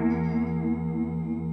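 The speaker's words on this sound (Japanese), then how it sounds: "できればモジュレーション系、 コーラスとかをかけて" Electric guitar, such as a Telecaster on a clean tone with the middle pickup setting and chorus modulation, rings with sustained, shimmering, slightly wavering chords, close and even, without talking.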